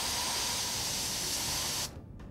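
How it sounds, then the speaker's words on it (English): Law enforcement pepper spray fired in one long continuous burst, a loud steady pressurized hiss lasting nearly two seconds before cutting off abruptly into quiet. "Here I'm going to be demonstrating the improper way of spraying by using a long, continuous burst into the face of the aggressor."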